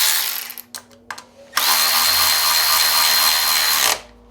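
A Milwaukee M12 3/8-inch cordless ratchet gives a few short bursts, then runs in one loud, continuous whir for about two seconds before stopping abruptly as the fastener tightens.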